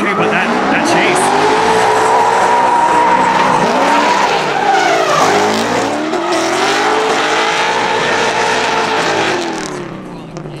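A drift car on track during a drifting competition run screams through long, sustained tire squeals that rise and bend in pitch under a loud engine, with commentators talking throughout.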